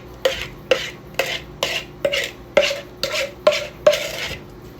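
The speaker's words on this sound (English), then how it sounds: "And then stir this all together." Banana bread batter being folded into a flour mixture, with a spoon knocking the bowl in about nine regular, evenly spaced scrapes and taps, close and moderately loud, with no talking.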